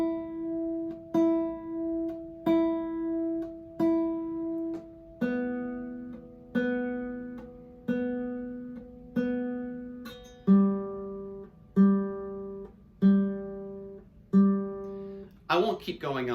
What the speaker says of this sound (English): we can play each open string using only the thumb.